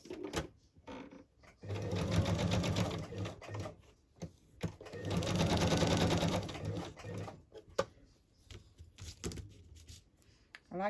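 A home sewing machine stitches around a fabric embellishment cluster in two sustained runs of rapid, even stitching, close and loud, with quiet handling and clicks between bursts.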